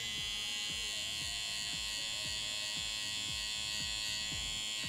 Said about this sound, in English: really use the corner of my trimmer to do so